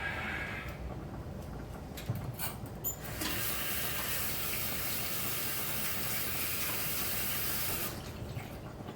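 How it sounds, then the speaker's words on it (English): A kitchen tap runs for washing hands after peeling shrimp, a loud steady rush of water that starts after a few clicks and handling noises, stays constant for several seconds, then cuts off near the end. "I can wash our hands"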